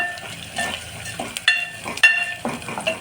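Onion and garlic masala with salt sautéed in a pan for a Marathi palak gargatta, a steady sizzle broken by repeated scraping stirs and a few sharp clicks of a spatula against the pan.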